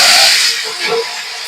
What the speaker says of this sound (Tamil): நம்ம வெங்காயம் போட்டுருவோம்.